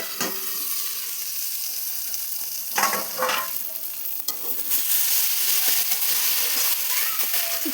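Snake gourd sizzles and fries in a hot pan, with steady hiss and a few clattering stirs of a spatula partway through, close and continuous.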